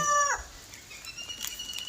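A flock of four adult turkeys, three females and one male, kept for sale gives one brief, loud descending call at the start, then softer scattered sounds follow.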